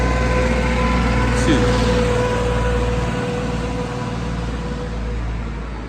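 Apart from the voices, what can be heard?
tractor engine running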